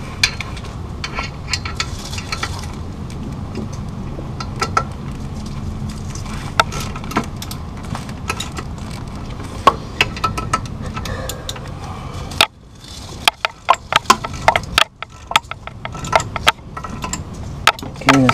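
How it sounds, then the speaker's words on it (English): Mechanical work on a 3000GT clutch installation, with bolts being snugged up: steady workshop hum broken by scattered metallic clicks and ratchet-like ticks, which grow sharper and more frequent after a sudden drop in background noise. "before I torque it all down, I'm just gonna snug these all up"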